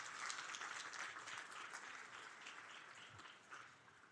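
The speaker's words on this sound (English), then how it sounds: "Does that deserve a round of applause?" Audience applause at a university faculty institute event, a continuous wash of clapping heard faint and distant, fading slightly toward the end.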